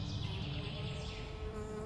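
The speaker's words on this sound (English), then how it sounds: "Bees hai, bees." Bees buzz near a trailhead in a Colorado national park, a faint, steady insect drone with a shifting high whine, close by and otherwise quiet.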